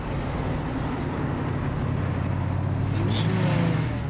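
A powerful Saleen-built Ford Mustang engine rumbles steadily at close range, a deep throaty drone that swells slightly toward the end, with no voices.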